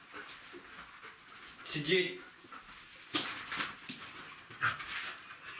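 A dachshund pants in quick, soft breaths during a training session with a trainer, close by, while a person gives short spoken commands over it.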